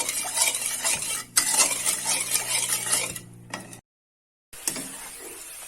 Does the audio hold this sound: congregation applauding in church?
no